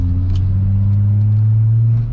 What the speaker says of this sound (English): That's how you drive a VR6.